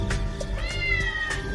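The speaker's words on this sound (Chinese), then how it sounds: "你有没有听到猫叫？" A cat, apparently a black stray, gives a clear, drawn-out meow, then another wavering cry, close and loud with no talking.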